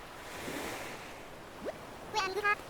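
Ocean waves in a video game wash steadily as a faint, continuous surf rush, with a brief voice breaking in near the end.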